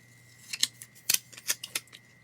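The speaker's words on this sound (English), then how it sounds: "So now I'm trimming off the offset just to make sure I can fit as much as possible." Scissors trimming paper for a creative journal, a handful of quick crisp snips at uneven intervals, close and clear against a quiet room with a faint steady hum.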